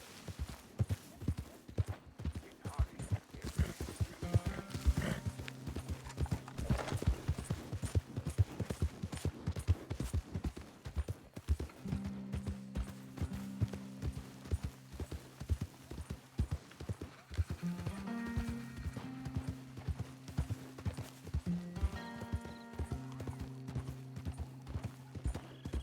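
Horse hooves clip-clop in a steady galloping rhythm across a Red Dead Redemption 2 game landscape, with a few whinnies and snorts mixed in and no talk.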